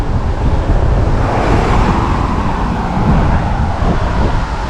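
Strong, steady wind roars over the microphone while riding on a road trip as a storm rolls in, with broadband buffeting and road rumble throughout and no talking.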